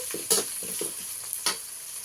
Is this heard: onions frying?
yes